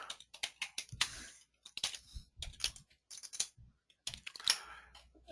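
Keys clatter on a computer keyboard in quick bursts of typing separated by short pauses, close and fairly quiet, with no voices.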